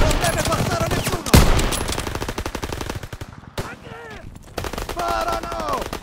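Sustained machine-gun fire rattles rapidly and loudly in a Call of Duty WWII D-Day battle, with heavy explosive bursts, a brief lull, and shouted voices mixed under the firing.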